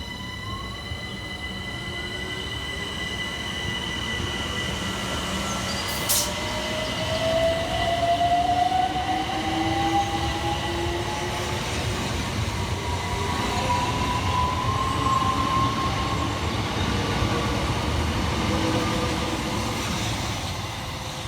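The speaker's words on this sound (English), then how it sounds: "Departing next to the station is 376006 and 376002, working the 1420 Southeastern service from London Charing Cross through to Hayes." Southeastern Class 376 electric trains 376006 and 376002 pull away from a station on the London Charing Cross to Hayes service, a steady motor whine rising in pitch over rolling wheel rumble, with a brief sharp squeal midway.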